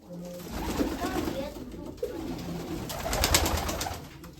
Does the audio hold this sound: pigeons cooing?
yes